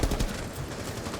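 Rapid automatic gunfire from a Rainbow Six Siege gunfight in a video game, a dense loud burst of overlapping shots with no talk over it.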